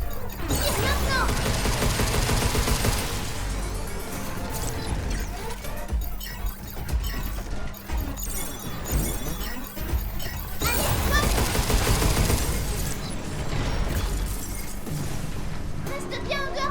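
Gunfire erupts in the video game Pragmata, dense bursts of rapid shots with crashes and shattering impacts in two loud waves, a game voice speaking French between them.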